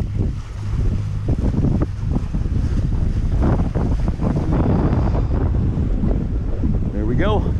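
Sailboat under full sail with one reef in the main, sailing in the lee of an island in the British Virgin Islands near Cooper Island, with steady loud wind rush on the microphone and water noise throughout.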